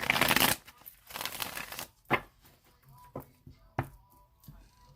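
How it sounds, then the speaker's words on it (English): A deck of tarot cards is shuffled at close range, with two loud riffling bursts followed by several sharp taps and softer card handling, and no talk. "I'm going to shuffle it 3 more times"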